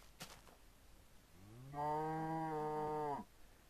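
Small cow in Minecraft giving a single drawn-out moo of about a second and a half, clear and fairly close, after a brief click near the start.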